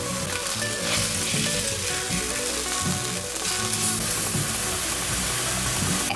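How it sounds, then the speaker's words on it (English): Swordfish sears in hot canola and olive oil, a loud, steady sizzle holding unbroken for several seconds with faint low tones underneath. "Swordfish in. And we're just gonna let that sear for about a minute."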